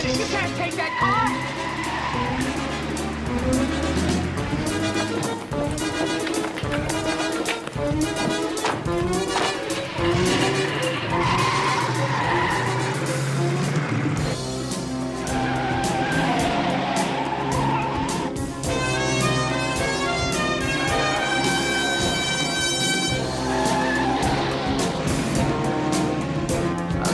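A car speeds away with tires skidding and squealing, loud engine and tire noise over a music-heavy soundtrack, with voices talking at times.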